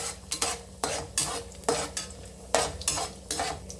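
Spices for mushroom biryani sizzling and being stirred in a pressure cooker, with a rhythmic scraping of a utensil about every half second over a faint fry.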